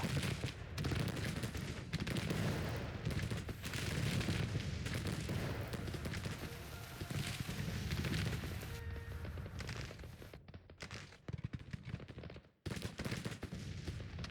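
Continuous dense battlefield gunfire and booming cannon artillery in the Grand Tactician Civil War strategy game, steady and loud throughout with a couple of brief drops near the end.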